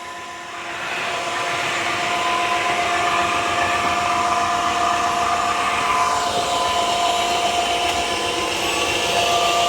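A Dreame H15 Pro wet-dry vacuum mop starts up after a brief quiet moment, its loud steady motor whine holding close and continuous for several seconds with a slight rise in pitch as suction ramps up.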